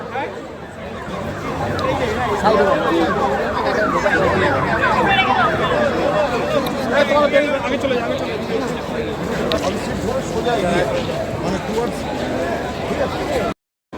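An ambulance siren wails repeatedly through a large protest march, its rising and falling tone carrying over loud crowd chatter and voices for most of the stretch before cutting off abruptly.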